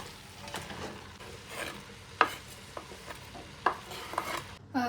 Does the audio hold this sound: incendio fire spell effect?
no